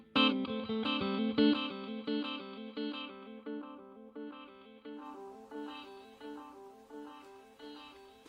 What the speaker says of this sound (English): I'm just trying to let you hear the difference in the tone for the repeats of the echo